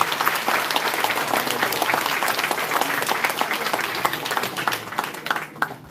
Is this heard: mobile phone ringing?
no